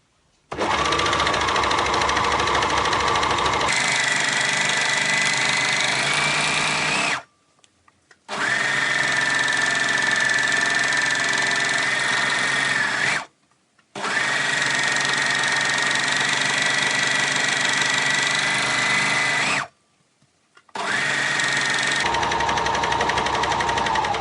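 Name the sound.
overlocker stitching round fabric edges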